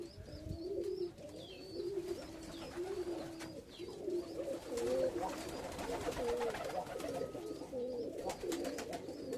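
Tippler pigeons coo in repeated soft, throaty phrases close by, with a few faint chirps and rustling in the background.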